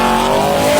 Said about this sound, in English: An 850 horsepower supercharged Ford van.